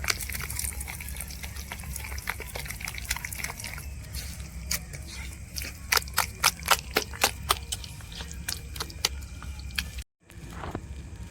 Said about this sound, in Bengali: এবারে ভালো করে সুন্দর করে আমি এখন ফেটে দেবো।